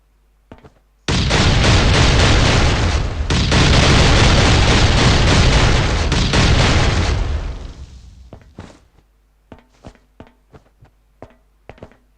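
Oil bomb explosions in the survival game Last Island of Survival: a loud, sustained roaring blast for several seconds that fades out, followed by scattered sharp pops and thuds.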